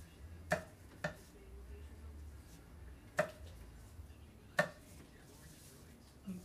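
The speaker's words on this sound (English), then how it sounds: "For garlic, you just want to make sure the little ends are cut off." Garlic ends cut off with a kitchen knife: several sharp, separate chops against a cutting board, spaced irregularly over a quiet room background.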